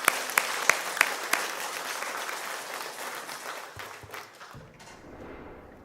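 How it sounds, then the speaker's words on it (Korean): A church congregation applauds together in a sustained burst; the first few seconds carry sharper, louder claps before the applause thins and fades toward the end. "자, 우리 하나님께 영광의 박수 드립니다."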